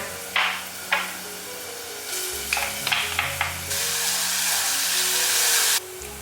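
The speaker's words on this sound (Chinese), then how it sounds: "起锅热油，把蒜蓉跟姜蓉放进来炒香。" Minced garlic and ginger frying in hot oil in a wok for a pork tripe dish, opening with a few spatula taps and scrapes, then a loud close steady sizzle that swells and cuts off near the end.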